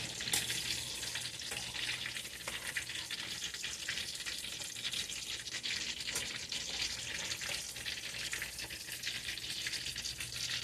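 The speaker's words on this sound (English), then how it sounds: "I'm gonna throw my last batch into the oil on the back here." A batch of hand-cut, skin-on fries frying in oil, giving a steady, even crackling sizzle that holds at a moderate level throughout with no talk.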